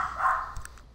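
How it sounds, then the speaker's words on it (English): A dog barks in the background, two or three short barks about a second apart, fairly faint behind a steady hum. "I'm sorry if you hear dogs in the background."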